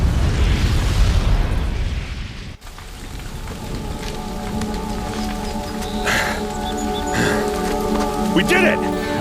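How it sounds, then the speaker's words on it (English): A bomb explosion in the video game Horizon Zero Dawn, heard as a loud broadband boom in the first seconds that cuts off sharply, followed by sustained droning game sounds and music. "the booby trap on the bomb downstairs is gonna get set off"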